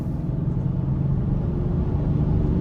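A 2023 Land Rover Defender 130 SE with a 3.0-litre turbocharged inline-six drives along, heard from inside as a steady low engine drone and road rumble, even and continuous with no talking.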